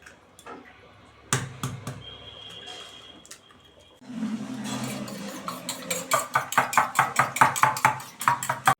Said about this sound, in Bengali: প্রথমে ডিমগুলো ফাটিয়ে নেব।